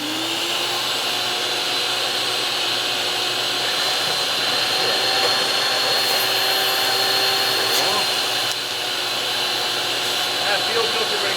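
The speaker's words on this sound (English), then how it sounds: "we've been able to modify this conventional large hose into a smaller gas tank vacuuming hose" A shop vacuum fitted with a narrowed hose sucking gravel from a 1931 Chevrolet coupe's gas tank, whining steadily and loudly with faint rattles of debris throughout.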